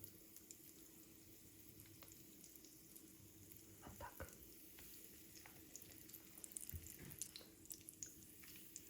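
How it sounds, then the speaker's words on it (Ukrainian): Syrnyky, cottage cheese pancakes, frying in a pan over medium heat give off a steady, close sizzle and crackle, with occasional faint clicks and no voices. "Смажаться сирнички на середньому вогні."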